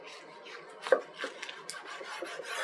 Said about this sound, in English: Go ahead and slice one up for y'all